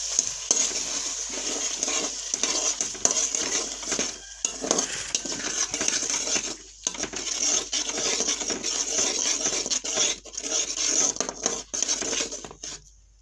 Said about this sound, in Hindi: अब हम इसमें जो 3 अंडे हैं वो मिक्स करेंगे।